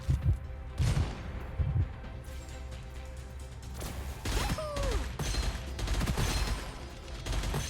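Video game gunfire in the shooter Gunfire Reborn: loud bursts of rapid shots come in clusters, with weapon mechanism clatter and impact crashes. No speech.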